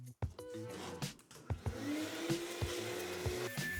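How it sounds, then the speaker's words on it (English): A shop vacuum runs in a woodworking shop, a steady, fairly quiet whooshing hum with a rising whine, broken by several sharp knocks and clunks nearby. "new location of the shop vac"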